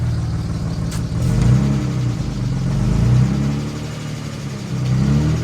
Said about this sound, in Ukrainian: у нас моторчик, моторчик тільки зібраний, газувати не можна, хай він на холостих трошечки